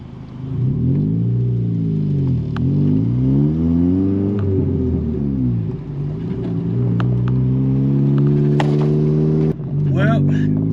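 A 1988 Honda CRX Si engine drones steadily as the car drives, its harmonic pitch rising and falling through the gears with a loud, continuous rumble inside the cabin.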